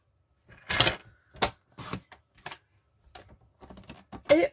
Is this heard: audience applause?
no